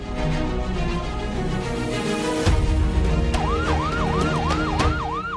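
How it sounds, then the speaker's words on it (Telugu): An ambulance siren sounds in a Telugu TV drama, its loud, rising-and-falling wail cutting in partway through over a bed of background music, with a heavy thump just before. "సైరన్ ఆన్ చేసి పోనీరా."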